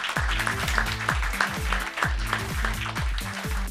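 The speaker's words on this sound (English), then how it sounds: "Shall we give Arnold another big warm round of applause" A press conference audience applauds Arnold, a steady, even wash of many hands clapping throughout, with a low rhythmic thumping of music beneath it.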